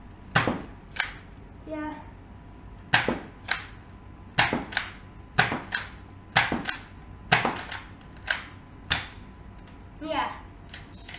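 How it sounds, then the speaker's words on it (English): An X-Shot Dino Attack toy blaster fires about a dozen sharp, clicking snaps in uneven succession, some in quick pairs, while a young voice speaks briefly between shots. "now I'll show you this gun firing"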